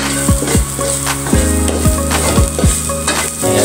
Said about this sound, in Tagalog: magigisa na po tayo ng bawang, sibuyas at luya na may paminta